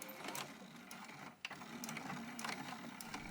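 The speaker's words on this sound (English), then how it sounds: "I'm just going to sew straight along with a 1/2 inch seam allowance" Sewing machine running a straight half-inch seam on the corners of a zippered fabric purse, a faint rapid stitching whir with a brief pause midway, with no talk.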